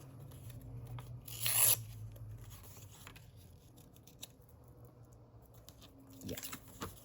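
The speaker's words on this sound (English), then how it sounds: "this, but I'm going to rip it." A paper envelope is torn by hand for scrap-craft ephemera, one short loud rip near the start followed by quieter rustling of paper and a second brief tearing burst near the end.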